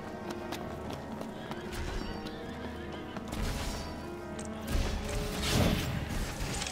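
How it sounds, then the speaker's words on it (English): Horses in Final Fantasy XV whinny repeatedly over clip-clopping hooves and game background sounds, with the neighs growing louder and closer toward the end. "I hear horses."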